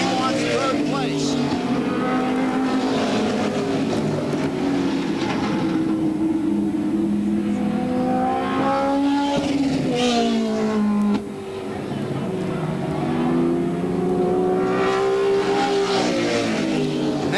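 Race cars run laps at Wiscasset Speedway in Maine, a 1988 stock car event, and their engines drone and rise and fall in pitch as they go by. Steady mid-distance roar, with a commentator talking over it.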